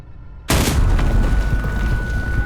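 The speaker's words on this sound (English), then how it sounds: "you should have died from that explosion" Explosion in the horror game Amnesia: Baxter's Memoirs, a sudden loud boom that bursts out of near silence and then lingers as a heavy, rumbling roar.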